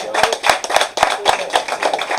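A church congregation claps for the Lord at a Sunday service, a loud, rhythmic, steady beat of many hands in unison, with a sharp, regular pulse roughly four claps per second.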